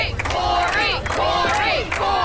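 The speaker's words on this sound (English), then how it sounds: "she rallies the crowd. And this crowd was already hot for this match." Crowd at an Appalachian Championship Wrestling event roaring and chanting loudly and continuously, voices rising and falling in rallying shouts.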